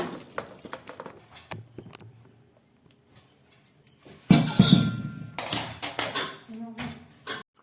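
Boiled potatoes tipped out of a metal cooking pot, a cluster of clanks and clattering metal knocks, quiet at first and then loud bursts in the latter half.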